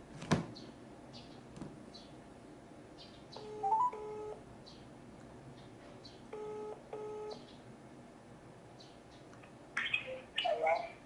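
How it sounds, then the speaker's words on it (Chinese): A telephone dials out with a few beeping key tones, and then short, evenly spaced ringback tones repeat quietly. A louder burst of sound comes near the end. "所以我现在就来打这个电话"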